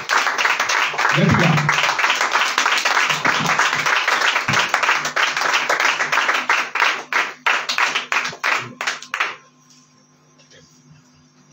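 A prayer-meeting audience claps in welcome, loud sustained applause that thins into scattered rhythmic claps before stopping abruptly; a voice speaks briefly near the start.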